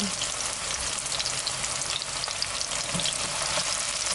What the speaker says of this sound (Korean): 파기름을 낼 겁니다. 파. 정말 기름에 보글보글한 소리는